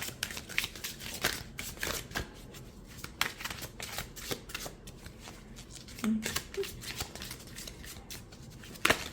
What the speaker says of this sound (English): easy shuffle